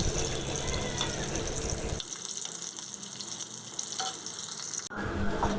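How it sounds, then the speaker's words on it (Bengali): Cauliflower florets fry in hot oil in a pan with a loud, steady sizzling hiss. The hiss drops to a quieter, duller crackle after a couple of seconds, with no voices. "উল্টে পাল্টে ভালোভাবে ভেজে নেব ভাজতে গিয়ে তেল ছিটকে এলে একটু ঢাকা দিয়ে নিতে পারেন"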